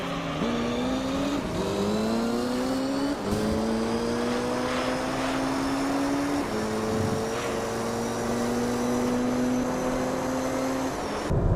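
Porsche 911 engine under way, a steady droning tone that climbs through gear changes with brief drops between shifts, loud and continuous with no talking.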